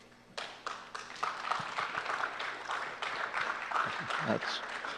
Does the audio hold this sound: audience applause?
yes